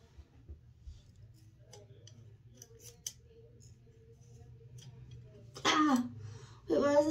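Scissors snip through tangled hair in a few faint, close cuts, with coughing and throat clearing nearby and brief speech near the end.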